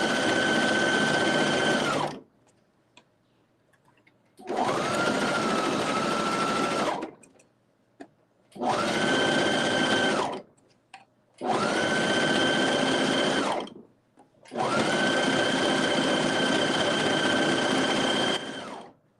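A sewing machine gathers fabric with a gathering foot for a skirt, running loud and close in five long steady bursts of about two to three seconds each, separated by short silent pauses.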